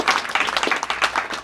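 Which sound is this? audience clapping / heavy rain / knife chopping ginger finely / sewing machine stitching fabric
audience clapping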